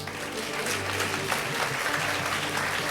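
An audience at a social-good conference session in the Philippines claps in steady, dense applause that holds at an even level throughout, fairly distant and filling the room.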